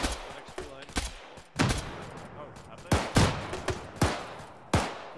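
Heavy gunfire at a bunker in the military game Arma, with repeated loud, sharp shots in uneven bursts, close and dominant, while players talk over the exchange.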